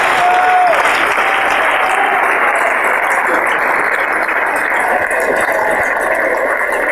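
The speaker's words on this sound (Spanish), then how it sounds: "Dale ese aplauso al Rey, porque Él vive." Loud, sustained applause from a church congregation during a Spanish-language worship service, dense clapping filling the space steadily from start to finish with no pauses.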